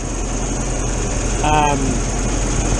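Air-cooled VW camper van engine idling slightly fast after an ignition timing adjustment, a steady close rumble with a brief tonal rise midway and a voice talking over it.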